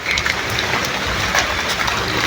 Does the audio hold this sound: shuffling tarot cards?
no